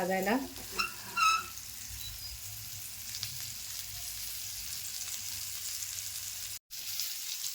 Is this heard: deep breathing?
no